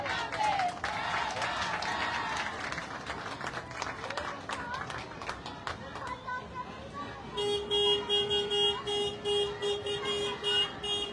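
A crowd applauds at a Day of the Dead parade in Tepeaca: dense clapping for several seconds beneath an announcer's voice, thinning out before sustained horn-like tones sound near the end.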